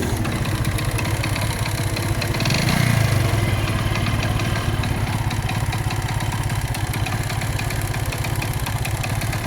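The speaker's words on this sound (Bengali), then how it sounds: "এটার কিন্তু পিক আপ অ্যাকুরেট উঠতেছে না অর্থাৎ ঢাক ঢাক ঢাক ঢাক ঢাক ঢাক শব্দ" A Hero Glamour motorcycle engine with a faulty CDI unit and poor pickup idles with an uneven, stuttering chug, swelling briefly as it revs, then settling back into its rough, irregular beat.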